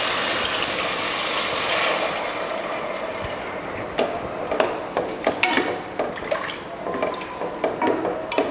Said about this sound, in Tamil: இதில் தண்ணி சேர்த்துருவோம்.